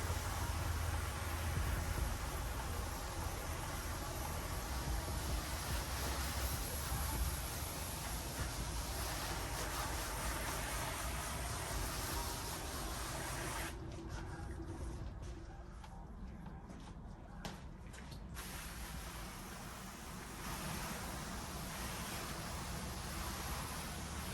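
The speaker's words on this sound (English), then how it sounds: "get our pump sprayer and spray down any of the dirt" A hand pump sprayer rinses dirt off a car's paint as part of a rinseless wash, a steady broadband hiss running the whole time, briefly thinning for a few seconds near the middle before resuming.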